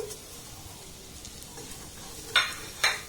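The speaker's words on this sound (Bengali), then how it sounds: "সুজিটাকে একটু নাড়াচাড়া করে ভেজে নিয়েছি" Semolina sizzles softly in a pan for sooji mawa gujiya while it is stirred, a low steady frying hiss with two sharp scraping strokes near the end.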